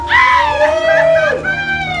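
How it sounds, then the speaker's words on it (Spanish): A loud shout rings out over a noisy crowd, with sustained yelling voices and cheering around it. "¡Que siga ese grito para mi carnal de Nahual!"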